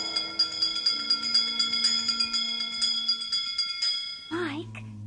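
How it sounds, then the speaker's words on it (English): In the 1969 Haunted Mansion story recording, bright, steady bell tones shimmer over a low musical drone, repeating in a pulsing pattern, then give way to a warbling, wavering effect near the end. "give us a hint by ringing a bell"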